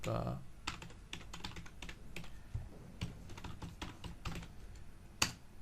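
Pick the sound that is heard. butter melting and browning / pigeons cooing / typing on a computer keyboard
typing on a computer keyboard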